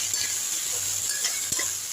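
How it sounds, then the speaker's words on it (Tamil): Okra stir-frying in a pan with onion and dried chillies, giving a steady close sizzle with light scraping and stirring clicks from a spatula, no voices. "நல்லா வதக்கி விட்டுருங்க."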